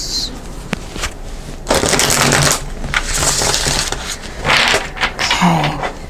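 Tarot cards riffle and shuffle in several bursts with brief pauses between, close and crisp, papery flutters with no one talking.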